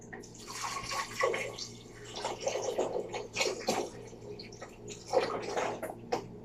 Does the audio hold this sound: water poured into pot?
yes